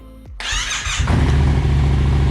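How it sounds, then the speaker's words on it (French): A Yamaha MT-07 motorcycle engine cranks briefly, then catches and settles into a loud, steady idle close by, with no talk over it. "Et ça démarre tout de suite."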